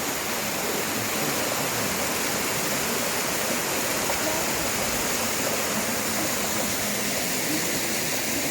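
Gürlevik waterfall in Erzincan, partly iced over, roars as a constant dense rush of falling water, loud and unbroken with no pauses.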